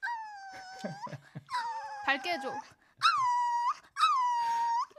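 A person imitates a puppy with high, wavering whimpering and whining cries in several drawn-out bursts, mixed in with short bits of talk in a Korean radio studio.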